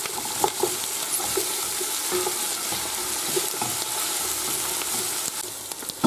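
Bay leaf and parsley sauté in a pan for a chicken pepitoria, a constant loud sizzle and crackle with scattered scrapes and taps from stirring throughout.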